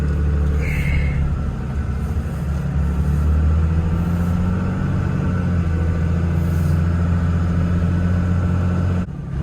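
A Dodge truck with a 24-valve Cummins diesel driving, a steady deep engine rumble and drone at close range, continuous throughout without talk.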